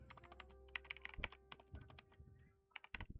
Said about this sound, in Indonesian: kita bisa ngetik misalkan Rob, misalkan Johnson.